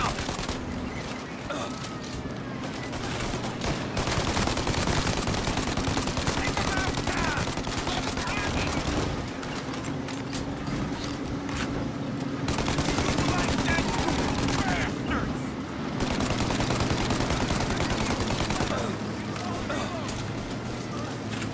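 A Tommy gun firing with unlimited ammo in the game Mafia Definitive Edition, long rattling automatic bursts almost nonstop and loud up close, under excited talk.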